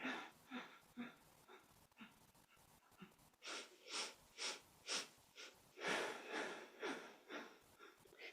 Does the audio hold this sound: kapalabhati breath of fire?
yes